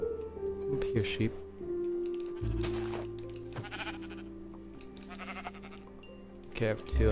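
Minecraft sheep bleating in the video game, several short wavering bleats spread over a few seconds, with clicks and other game sounds between them.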